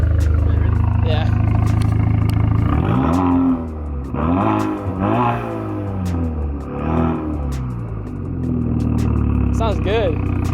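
A Cadillac ATS with the 2.0 LTG engine and a ZZP catted downpipe exhaust revs repeatedly in loud rising and falling bursts, close by, with people talking over it in places.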